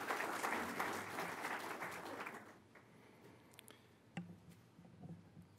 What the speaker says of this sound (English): Please, at this time, give them a round of applause as a thank you.